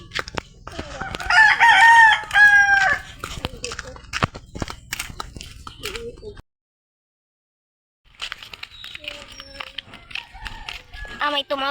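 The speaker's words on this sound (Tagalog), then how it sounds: "May tumawid na manok." A rooster crows loudly early on, followed by scattered clucks and taps; a pause of silence, then quieter clucking and background chatter resume.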